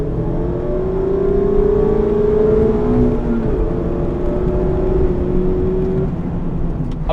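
A 2019 Mazda MX-5 Miata accelerating hard from 0 to 100, the engine whining upward in pitch through a gear, dropping at a shift and climbing again, loud and close with no talking.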